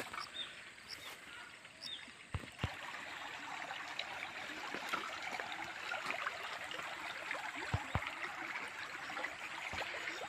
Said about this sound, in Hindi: नाले में अच्छा खासा पानी है, जल।